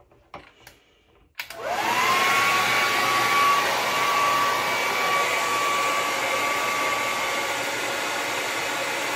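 A hair dryer fitted with a diffuser drying hair, switched on after a few soft handling knocks, then a steady loud whirring blow with a thin high whine running several seconds.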